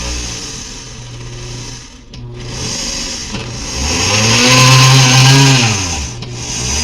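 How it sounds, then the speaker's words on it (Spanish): A new kitchen blender grinding on a juice setting, its motor whining loudly and rising and falling in pitch as the blades churn, close and steady with no talk. "Muele, les digo que literal como una licuadora, o sea, de lado a lado."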